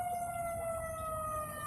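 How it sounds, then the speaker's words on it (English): An ambulance siren from a nearby station sounding as a continuous wailing tone that glides slowly in pitch, steady and moderately loud, with no voices. "That's an ambulance."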